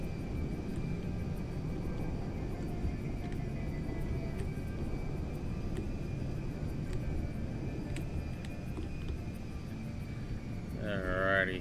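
A TAV 37 Valkyrie shuttle from the Avatar films, modded into GTA 5, comes in to land with a steady engine roar and low rumble, a thin whine riding on top and a voice briefly at the end.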